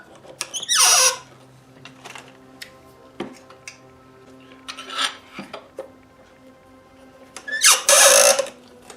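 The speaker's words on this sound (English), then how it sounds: "then clamp the maple in place, and that'll push down the edges of the frets" A maple block is clamped over guitar frets during a Gibson L48 fret replacement: a few loud, close ratcheting squeaks as the clamps tighten, separated by small ticks and handling clicks.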